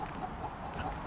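Chickens in a coop give soft, brief clucks at a low level over a steady barnyard hum, close by but quiet.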